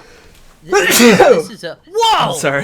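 A sudden loud sneeze close to a podcast microphone bursts out, followed by a short apologetic remark from the speaker.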